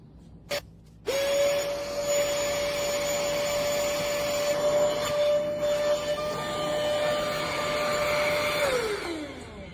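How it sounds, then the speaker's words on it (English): The built-in electric pump of a KNZZO full-size air mattress deflates it, sucking the air out with a loud, steady whirring drone that runs for several seconds, then falls away as it switches off, after a brief click. "it helps while it's deflating and it's sucking that air out"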